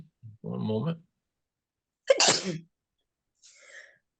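A single sharp sneeze bursts out during an online meeting, preceded by a short spoken phrase and followed by a faint trailing sound.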